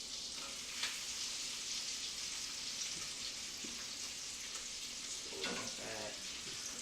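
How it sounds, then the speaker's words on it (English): Chopped onions and minced garlic frying in melted butter in a pan, a dense, even sizzle holding steady throughout with a few faint stirring sounds. "I'm also going to add my onions and garlic that I already chopped and minced up"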